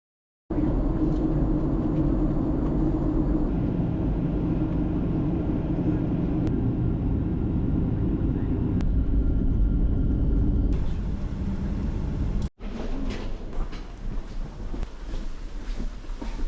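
Passenger airplane engines before takeoff, a steady loud low roar heard from inside the cabin, briefly broken by a short dropout near the end before it resumes.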